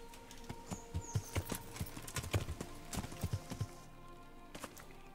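Horse hooves clip-clop in an uneven, clustered series of close, fairly loud strikes on a hard surface, with a steady background hum underneath.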